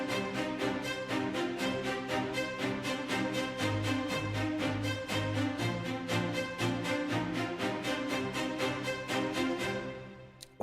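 Sampled notes from a Cubase 14 CTO library play in a steady, rapid repeating pattern over sustained lower tones, with the top line notes sounding only some of the time, loud and clean before fading out.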